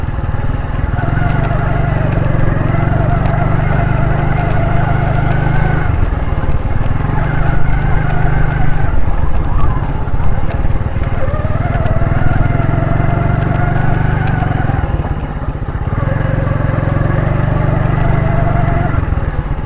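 Motorcycle riding along an unpaved dirt road near the Malir Expressway construction, its engine droning steadily and close throughout, with brief dips in pitch as it slows.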